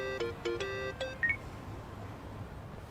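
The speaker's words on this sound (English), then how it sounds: "Kasuga, call me on your phone" A mobile phone ringtone inside the video game Yakuza: Like a Dragon, a short run of bright electronic beeping tones in a quick rising pattern, clear and fairly loud, then fading to a quiet background.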